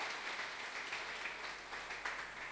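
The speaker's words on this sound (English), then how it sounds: "Let us clap for her once" Congregation clapping during a Sunday church service, a faint, even patter of many hands sustained throughout the short moment, heard from a distance.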